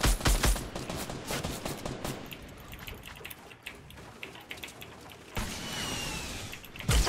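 Rapid gunfire in the Fortnite Battle Royale video game: dense volleys of overlapping shots that thin out midway, then swell again near the end, fairly loud throughout.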